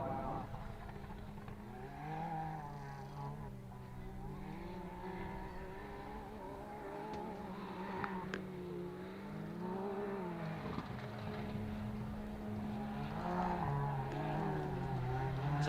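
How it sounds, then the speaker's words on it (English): A Can-Am side-by-side with a Rotax engine winds up at a desert race, its revs rising and falling in sustained swells of steady mechanical drone heard from a moderate distance. "As you hear that Rotex start to wind up."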